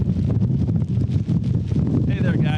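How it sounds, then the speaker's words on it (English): Strong storm winds from Storm Nicholas roar across Matagorda Bay at Port O'Connor in a loud, continuous buffeting rush of microphone wind noise, with a brief higher tone near the end. "Winds have picked up."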